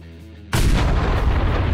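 A bomb from a mod in Garry's Mod goes off abruptly after a brief hush, a loud heavy blast that gives way to a dense sustained rumble filling the rest of the moment.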